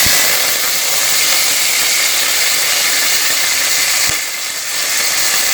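Curry leaves, mustard seeds and urad dal sizzle in hot oil with a loud, steady, close-up hiss that barely changes, broken only by a brief dip near the end.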